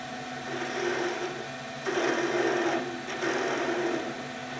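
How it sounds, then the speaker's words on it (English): Spindle gouge making very small, gentle cuts on the end of a workpiece spinning on a wood lathe, a steady whirring hiss with two louder bursts of cutting partway through, close and continuous. "I'm just going to go gently with a spindle gouge on the end here."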